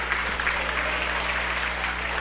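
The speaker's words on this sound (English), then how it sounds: "Everyone deserving some applause here." Crowd applause at a Cal U versus Slippery Rock college men's basketball game, a steady wash of clapping from a gym audience lasting the whole moment, with no voices over it.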